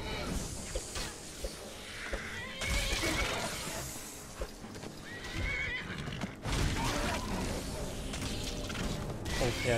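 A horse neighs and whinnies in the Skyrim video game, with clip-clop hooves and game ambience around it and a loud, close sustained whinny near the start and again midway.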